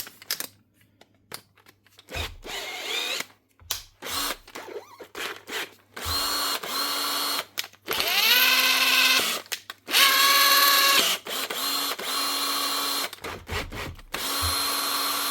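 An old Hitachi cordless drill whirs in repeated bursts, spinning up and winding down, loud and close with brief pauses between runs.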